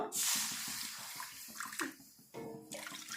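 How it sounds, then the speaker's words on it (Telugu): Water poured from a glass into a pan for an Ayurvedic hair-fall remedy, a loud rushing splash at the start that settles into gurgling and trickling, with light clinks near the end. "ఒక గ్లాస్ నీళ్ళు పోసుకుంటాను"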